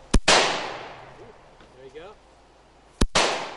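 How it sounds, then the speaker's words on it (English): Two sharp, loud shots from a Russian semi-automatic assault rifle, about three seconds apart, each with a rolling outdoor echo, and faint voices between them. "how to fire a semi-automatic weapon like this Russian assault rifle."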